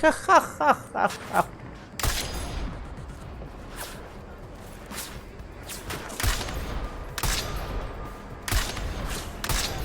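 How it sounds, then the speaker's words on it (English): Sniper rifle shots in the video game Deus Ex: Mankind Divided, a quick burst of sharp reports at the start followed by several spaced, loud single cracks over low background game ambience. "Okay, then sniper rifle, direct hit, body doesn't make any difference apparently."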